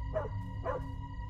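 Dog in the video game Fears to Fathom barking twice, faint and distant, over a low steady background hum.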